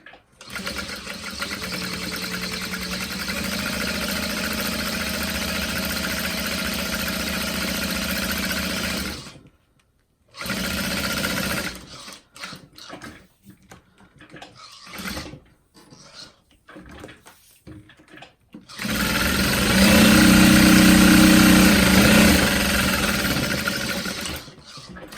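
Sewing machine back stitching along the bottom of a Swoon Charlotte City Tote bag, running steadily in two long loud bursts separated by a stretch of quiet handling and pauses.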